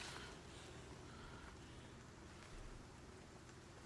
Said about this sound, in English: Bloody raining.